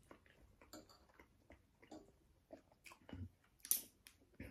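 Close, wet chewing of a hotdog served with rice, with soft irregular bites and mouth sounds in an indoor home setting and no talking.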